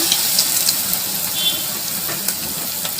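Chicken pakora pieces frying in hot oil, a dense, steady close-up sizzle and bubbling hiss with small crackles and pops, no voices.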